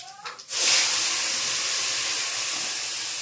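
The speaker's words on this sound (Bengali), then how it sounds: "এই যে পেঁয়াজ বাটাটা দিয়ে দিলাম" Onion paste hits hot oil seasoned with five-spice and erupts into a loud, steady hiss of sizzling that holds on without a break after a brief clatter.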